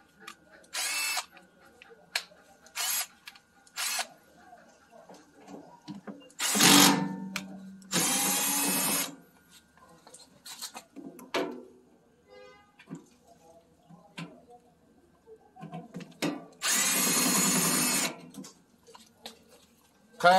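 A power drill unscrews the chain cover on a pumpkin fruit crusher in short whirring bursts separated by pauses, with clinks of metal parts and someone talking in between.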